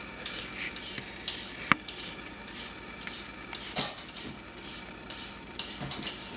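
A carrot is peeled or grated straight into a salad, quick rhythmic scraping strokes with clinks of utensils and dishes, close and moderately loud.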